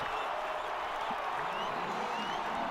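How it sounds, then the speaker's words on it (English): Brazilian football fans in a stadium crowd roar and applaud after a goal, a dense, steady wash of cheering with commentary talk over it. "Give the Brazilian fans something to cheer about."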